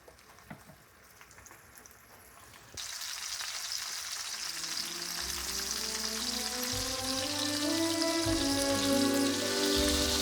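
Meat hits a hot pan and begins searing with a sudden loud sizzle that keeps building into a dense, crackling hiss, close and continuous, with a faint low hum beneath.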